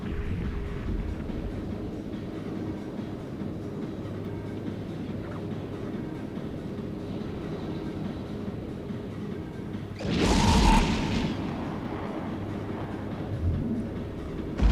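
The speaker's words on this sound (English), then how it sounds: "That was a big hit from the missiles on the Drake." A Drake ship in EVE Echoes takes missile hits: a low rumbling space ambience, then one loud heavy impact burst about two-thirds through that fades back into the drone.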